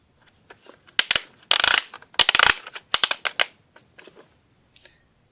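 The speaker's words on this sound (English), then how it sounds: "Both turrets spin around 360 with a satisfying clicking sound." Star Wars Galactic Heroes Jabba's Bounty toy turrets spun by hand, giving bursts of sharp plastic clicking and ratcheting in uneven clusters, close and fairly loud with short pauses between.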